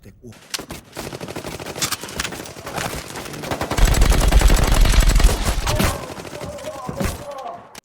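Rapid automatic gunfire from a scene in the Indonesian action film The Raid crackles in long, dense bursts with heavy thumping impacts, loud and close, while voices talk over parts of it.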